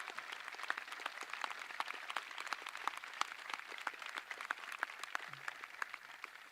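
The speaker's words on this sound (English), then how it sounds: "Let's give him a round of applause." Steady, faint applause from a distant graduation crowd for a senior headed to the Marines, dense clapping continuing evenly throughout without talk.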